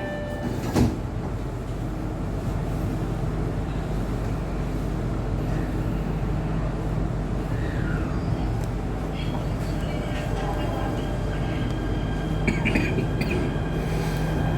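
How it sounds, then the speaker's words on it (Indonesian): Jakarta MRT train bound for Lebak Bulus pulls away from platform 1, a steady low rumble and hum with a rising motor whine and rattles, heard from on board over faint background voices. "The train bound for Lebak Bulus and platform 1 is departing."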